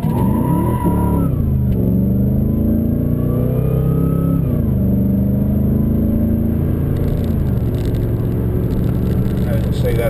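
Supercharged Holden VF Calais launching from a standstill, engine roaring loud and close as the tyres spin, the revs dipping when the throttle backs off and climbing again as traction returns, with a brief voice over the start.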